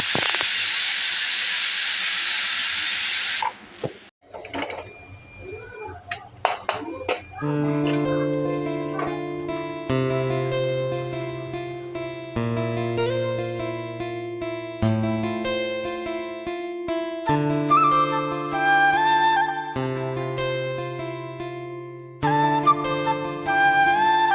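A pressure cooker with its lid on, cooking with a little turmeric, lets out a loud, steady steam hiss for a few seconds before it cuts off abruptly and music takes over.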